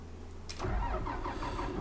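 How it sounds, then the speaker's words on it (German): A tractor in the Farming Simulator 19 video game starts up with a short crank, then settles into a steady, close engine run with no talking. "wird man den Traktor zurückfahren"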